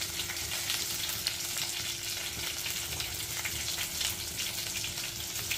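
Cumin and mustard seeds, with fenugreek, fry in a pan of hot oil, giving a steady close sizzle with fine crackling pops throughout, no voices.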